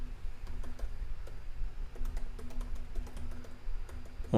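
Someone types an email address on a computer keyboard: a steady run of light, close key clicks in quick, uneven rhythm over a low hum, with no talking.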